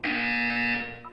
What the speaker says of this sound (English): When you hear the buzzer, look up at the ceiling.